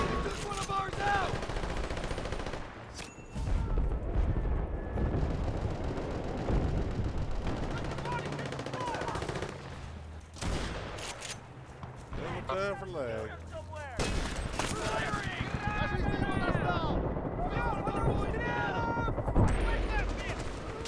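Gunfire in Battlefield Bad Company 2, with bursts of rapid shots and heavy blasts running almost the whole time, mixed with game effects while players talk over it.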